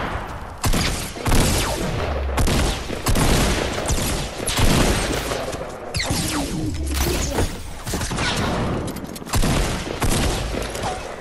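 Dense, continuous bursts of video game gunfire, rapid shots and heavy thuds overlapping loudly with barely any pause.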